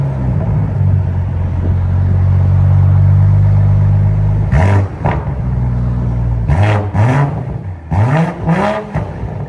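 BMW M340 with a 3.0L turbo six and Dinan cat-back exhaust, idling with a deep steady drone before several sharp, loud throttle blips crackle out in quick succession near the car.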